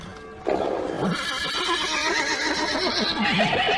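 Frightened horses in stables whinny and neigh loudly and repeatedly, several overlapping calls rising and falling close by, with a steady rustling background.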